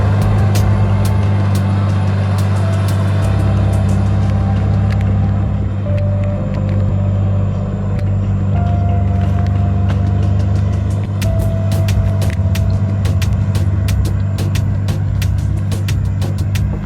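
A loaded logging truck drives along a forest road, its loud engine holding a steady heavy drone throughout, with faint rattles and clicks on top and no voices.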